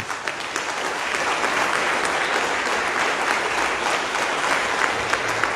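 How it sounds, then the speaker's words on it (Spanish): A church congregation claps hard together in praise of Jesus Christ, a dense, even stream of hand claps that holds strong from start to finish with no voices rising above it. "Vamos a darle un fuerte aplauso a Jesucristo"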